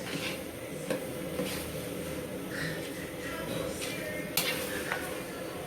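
Spoon stirring Senegalese thiep poulet rice in a cooking pot, soft scraping and occasional light clinks of utensil on metal at close range, a low kitchen hum beneath and no talk.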